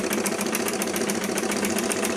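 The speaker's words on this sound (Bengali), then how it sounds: "তো মেশিন চালাচ্ছি বন্ধুরা, দেখো মেশিন দিয়ে সেলাই করতেছি।" Domestic sewing machine running steadily while stitching fabric, a fast, even mechanical chatter with a rapid repeating needle rhythm, close and fairly loud with no talk over it.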